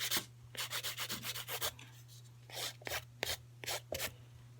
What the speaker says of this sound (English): And I'm filing my side wall still.